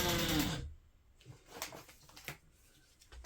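A sewing machine stitches the long seam of a fabric dog leash in a short, dense whir in the first half-second, then only faint scattered taps and handling noises remain.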